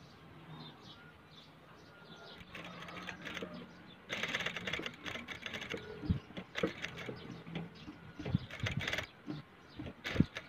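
A sewing machine stitches fabric for a face mask with a filter pocket, a soft rapid mechanical patter. It starts faint and grows louder and busier after about four seconds, with scattered clicks and handling knocks.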